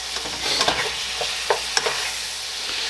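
A spoon works salt and pepper into a shepherd's pie mixture in a pan, giving close scraping strokes and light clicks over a steady hiss, with no voices.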